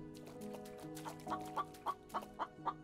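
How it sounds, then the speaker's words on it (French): Chicken in the video game The Infected clucks in a quick series of sharp, close calls, the clucks growing louder toward the end over a low steady hum of game sound. "Il y a une poule."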